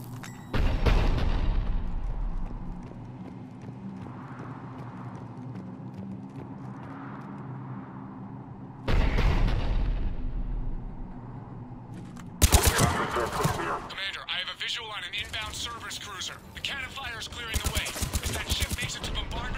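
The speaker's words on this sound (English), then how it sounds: "The cannon fire is clearing the way." Cannon fire and explosions in the Mass Effect 3 video game, heavy booming blasts near the start and again mid-way, followed by a dense rattle of rapid weapon fire and crackling impacts, all loud and close.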